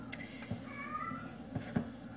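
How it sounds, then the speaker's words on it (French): A female house cat meows a few times indoors, short faint cries over a steady low household hum. "Fait qu'on va l'entendre miauler."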